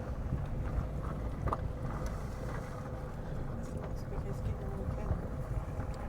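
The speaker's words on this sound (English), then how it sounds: "Quite windy up there on the wall." Strong wind buffets the microphone on a sea wall at Aldeburgh, a steady broadband rumble and rush that persists throughout.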